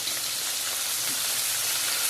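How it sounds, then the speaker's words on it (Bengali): Soy sauce hits a hot frying pan of mushrooms, onion and capsicum, giving a steady, loud, hissing sizzle that holds without breaks and plays alone with no talking. "এবার দিয়ে দিচ্ছি সয়া সস"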